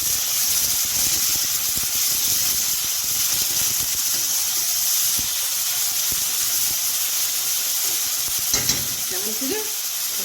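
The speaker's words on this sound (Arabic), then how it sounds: "جبت بصلايه كبيره كده بشرتها بشر كده متوسط، مش ناعم ولا خشن، ونزلت بالزيت" A large onion, grated medium-fine, fries in a generous amount of oil in a pan, giving a steady, loud sizzle with occasional stirring scrapes and no talking.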